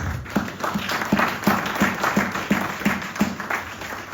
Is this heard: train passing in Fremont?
no